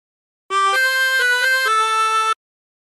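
Harmonica playing a short phrase with a bent note, a run of clear sustained reed tones with quick note changes, played alone and close.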